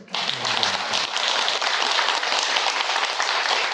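A temple congregation at a Buddhist dharma service at Yeongwolsa in Namwon breaks into applause. The steady, even clapping starts almost at once and holds through to the end, and a faint voice sounds briefly at the start.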